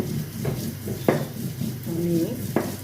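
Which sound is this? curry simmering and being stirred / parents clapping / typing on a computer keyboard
curry simmering and being stirred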